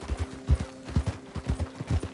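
Horse hooves clip-clopping in the Red Dead video game, a steady rhythmic series of close hoofbeats with a faint whinny, no talking over it.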